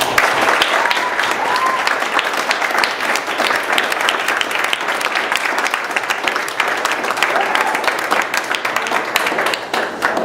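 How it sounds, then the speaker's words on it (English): Audience at a debate applauds steadily for about ten seconds, dense and loud clapping filling the room with a few scattered voices underneath. "If we have one more round of applause, please."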